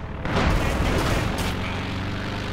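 Heavy artillery fire from two mortars and a howitzer in a World War II strategy game, a loud booming blast followed by a rolling, sustained rumble that slowly fades.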